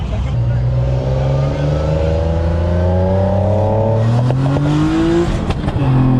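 A modified car with a stock intake, not yet retuned, revs and drives close by; a loud steady engine drone climbs in pitch as it accelerates, then eases off near the end.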